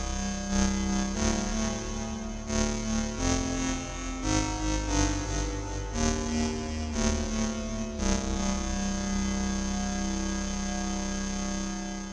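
A Korg NTS-1 digital synthesizer plays sustained, heavily processed tones with soft envelope attacks, thick with distortion, chorus and reverb, changing pitch every second or so in a steady loud flow with no voices.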